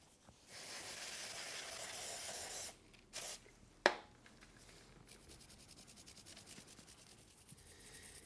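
Quiet brisk scrubbing of a motorcycle chain with a toothbrush, in bursts of rubbing and hissing strokes, with a sharp knock partway through; no talking.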